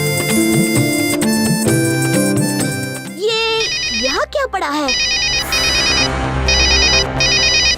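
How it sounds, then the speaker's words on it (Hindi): A mobile phone lying in a jungle corner rings loudly and up close with a repeating electronic melodic ringtone, broken briefly by a short swooping tone, while a cartoon character speaks over it. "किसी का मोबाइल फोन है। ये तो चल भी रहा है।"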